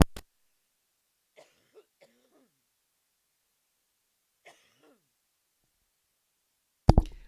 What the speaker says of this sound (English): that would be the COVID cough I was talking about